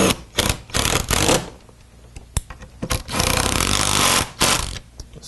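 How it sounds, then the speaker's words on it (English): A power tool drives bolts into a Ford F150 during assembly, firing in several short, loud bursts with brief pauses between them, close by. "I'll go ahead and run the bolts in on it."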